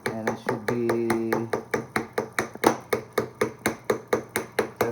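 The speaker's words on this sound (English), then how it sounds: "Put them right in there, kind of hammer it a little bit" A steady run of sharp hammer taps driving skewers into a watermelon, roughly three per second, close by, with a brief low humming tone early on.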